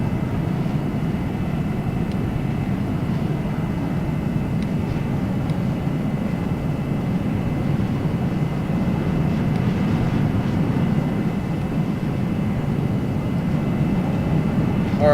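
Steady, dense roar of a Lockheed F-104 Starfighter jet in flight in a video game, a constant broadband rumble with no breaks and no voices.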